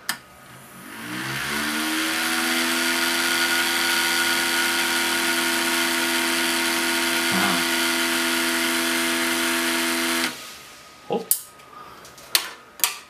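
A small toy electric motor from a Znatok electronics kit spins a propeller with a high whirring whine. It spins up quickly, holds steady for about nine seconds, then cuts out and gives way to a few sharp clicks and knocks.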